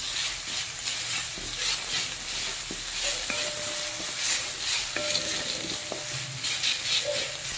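White sesame seeds sauté in ghee while a spoon stirs them, making a soft, even sizzle with scattered light clicks and taps from the stirring, fairly quiet and close, with no talking.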